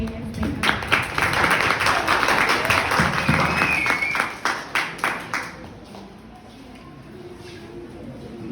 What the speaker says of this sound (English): please give a round of applause for our speakers today as they come.